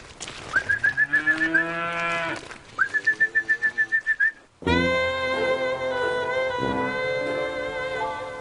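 Cows moo loudly close by, several long, drawn-out calls one after another, some ending in a rising, pulsing bellow.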